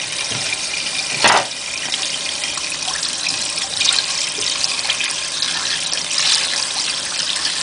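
Tap water pours steadily into a pot of beef tripe, a continuous splashing rush with a brief louder clatter near the start.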